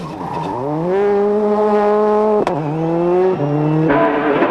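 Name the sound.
Ford World Rally Car racing at Punchestown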